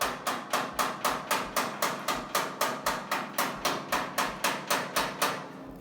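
An Eastwood Bullseye pick taps out dents in a sheet metal panel, a fast, even run of about twenty sharp metallic knocks, close and loud, each decaying quickly before the next.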